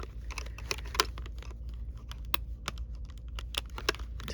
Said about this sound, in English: we've got to cut more of these little tabs